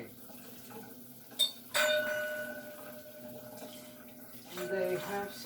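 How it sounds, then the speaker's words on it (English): Drinking glasses clinking together at a dinner of steak and salmon, with several bright, ringing chimes that hang and decay, set against background room noise and voices. "They have such a nice sound. Clink, clink, clink."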